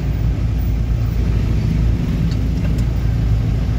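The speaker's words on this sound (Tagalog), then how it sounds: "Grabe traffic yan." Heavy road traffic in Guiguinto, Bulacan, with idling car engines making a steady low rumble, close and continuous, with a faint passing hiss and no talking.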